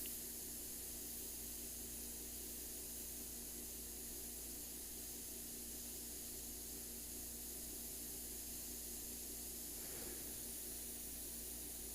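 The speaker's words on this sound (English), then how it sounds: "just kind of get them in with the airbrush" Steady airbrush spray hiss with paint, continuous and fairly faint throughout, with no talking.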